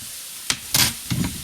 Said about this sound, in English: So that garlic popping, that's what we want.